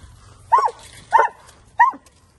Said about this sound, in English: when he barks, you hold it still